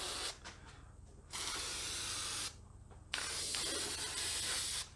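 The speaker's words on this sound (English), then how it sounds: "now we're getting ready to put our spray adhesive down" Loctite medium-hold spray adhesive hisses from a can onto a marble countertop in three steady bursts separated by short pauses, close and fairly loud, with no talk.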